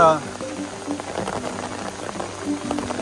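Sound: rain hitting an umbrella on a trail

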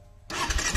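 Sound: Kawasaki Ninja 300 BS6 motorcycle engine starting

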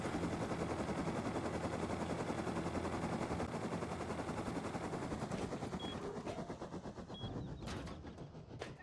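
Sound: explosive ammo going off in the distance, Rust video game

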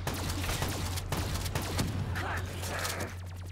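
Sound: shotgun fire in video game Call of Duty Black Ops III

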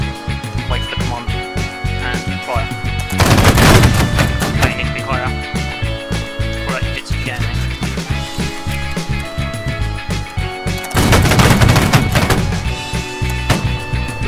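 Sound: musket volley fire by line infantry in video game

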